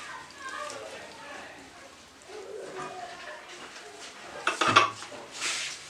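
Chicken tikka marinade with salt, chili and cooking oil gets mixed in a bowl, quiet scraping then a sharp clatter of a utensil against the dish near the end, with a voice talking over it.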